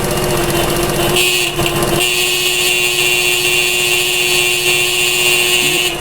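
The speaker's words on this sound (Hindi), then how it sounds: "ये देखा है आपने कैसे ज़बरदस्त हॉर्न काम कर रहा है।" Motorcycle horn on a bike wired to a homemade long-life 12 volt battery, sounding loud and steady for the full stretch as a continuous close buzzing tone, with no talk over it.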